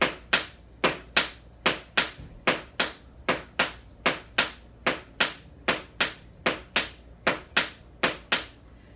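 Crisp tap shoe strikes on a hard floor during back shuffle steps, a fast even stream of sharp clicks in pairs repeating steadily throughout, close and clear with no talking.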